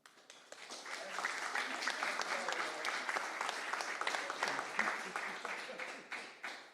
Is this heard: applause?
yes